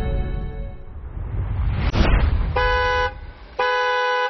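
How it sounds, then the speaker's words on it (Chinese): A car horn honks on a street, two loud, sustained toots in quick succession, following a whooshing rush of passing traffic. "小轿车鸣笛的声音是"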